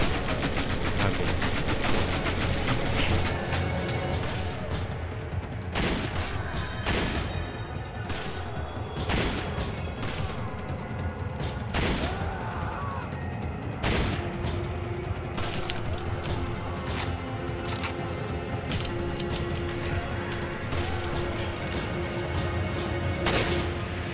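Near-continuous gunfire and crashes from the video game Resident Evil 5 fill the whole stretch, with dense bursts of shots and impacts under a busy game soundtrack.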